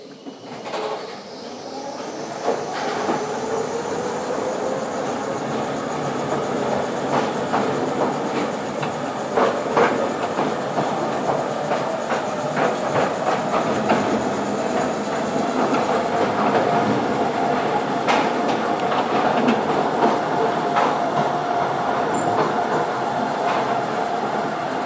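London's Mail Rail underground train running along its track through a tunnel, a continuous loud rumble with rhythmic clicks and clacks from the rails, sustained for the whole stretch.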